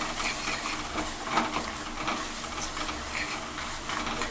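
Spice powder fries in a pan for rasam, giving a continuous close hiss and sizzle with faint crackles, steady throughout and with no one talking.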